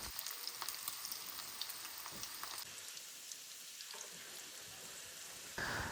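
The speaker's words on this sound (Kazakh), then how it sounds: "қызып тұрған майымызды осылай қуырып ала береміз, екі жағын қып-қызыл етіп" Ayran dough crackles and sizzles steadily in hot oil, a dense close-up frying hiss with small pops throughout.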